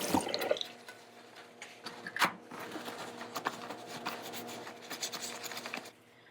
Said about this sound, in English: Here I'm doing some quick hand washing for activity number 2.